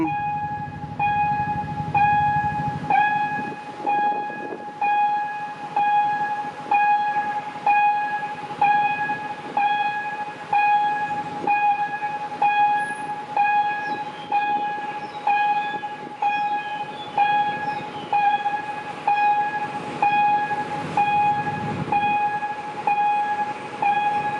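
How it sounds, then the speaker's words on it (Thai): Thai GEK diesel locomotive hauling diesel railcars as a freight train passes close by, with a rhythmic clatter of wheels over rail joints and a sustained tonal whine throughout, loud and steady. "เป็นรถ GEK ลากรถดีเซลราง"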